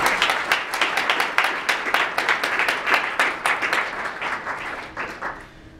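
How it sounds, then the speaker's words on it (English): A crowd applauds steadily, dense clapping that holds strong for several seconds and then slowly thins toward the end. "So if everyone could please take a moment to give a round of applause."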